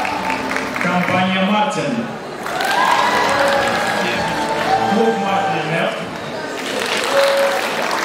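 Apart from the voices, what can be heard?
audience applause at student spring concert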